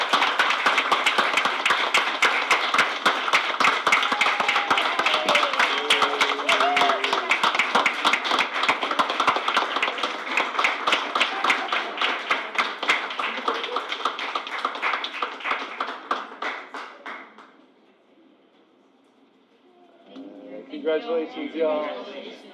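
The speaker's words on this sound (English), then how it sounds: "One more round of applause for everyone." Audience applause at a board of education meeting, sharp, dense, rhythmic clapping up close for about seventeen seconds, fading to near silence, then a short burst of voices and a few claps.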